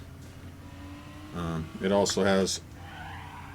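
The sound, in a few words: drift car skidding in a Unity racing video game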